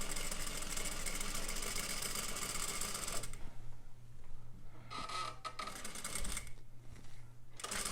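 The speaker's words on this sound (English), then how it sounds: "Sew down that line." A sewing machine stitching fabric along a straight line, a rapid, steady mechanical whir close by that runs continuously, then slows and stutters into short bursts near the end.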